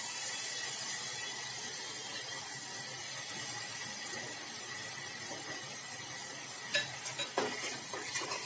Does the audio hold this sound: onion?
yes